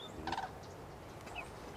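Speckle-bellied geese, greater white-fronted geese, give a quick burst of yelping calls at a distance, faint and brief, followed by a weaker second call.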